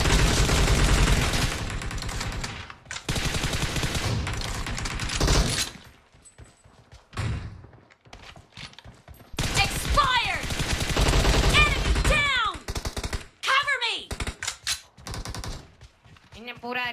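Dense automatic gunfire rattles in PUBG Mobile, long loud bursts with short pauses between them, as several players shoot at once, and a voice speaks over parts of the fighting.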